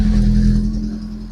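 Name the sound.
Rover 25 GTI car engine starting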